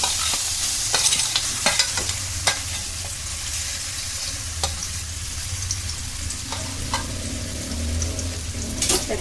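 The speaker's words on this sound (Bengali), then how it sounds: "তেলটা গরম হয়ে গেলে যে ডাঁটাটা আমি রেখেছিলাম শুকনো করে, ওই ডাঁটাটা এর মধ্যে আমি দিয়ে দেব।" Drumstick stalks fry in hot mustard oil for a pickle, a continuous close sizzle overlaid with repeated scrapes and knocks of stirring against the pan, with no talking.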